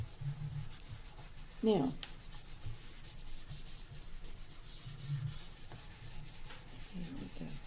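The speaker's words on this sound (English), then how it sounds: "Take your painter finger or two, and let's get it smoothed in." Fingertips rubbing and smoothing chalk pastel on paper for an Easter crown-of-thorns and rainbow-cross drawing, a soft, continuous close scuffing with a brief spoken word.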